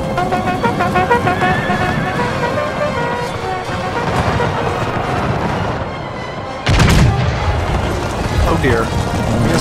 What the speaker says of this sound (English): Good volley, though.